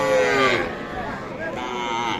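A young bull calf at Aftabganj cattle market gives a long, loud, drawn-out moo close by, followed by a second lower call against a busy crowd background.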